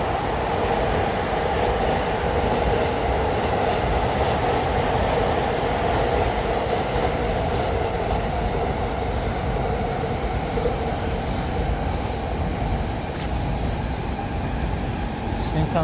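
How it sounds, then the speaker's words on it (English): A Shinkansen bullet train rumbles steadily as it speeds up in Tokyo, a dense continuous roar heard from nearby in the city. "Shinkansen speeding up."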